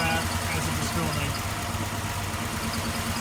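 A 1966 Chevrolet Bel Air V8 idles steadily on its freshly built exhaust, a low rumbling drone that stays even and close throughout, with a slight shake in the running.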